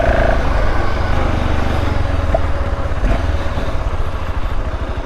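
BMW F650GS dual sport motorcycle engine pulling steadily in first gear while riding off road up a steep hill, a loud continuous throbbing drone close to the microphone with no talk.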